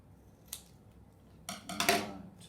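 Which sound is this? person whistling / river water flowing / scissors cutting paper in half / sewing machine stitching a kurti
scissors cutting paper in half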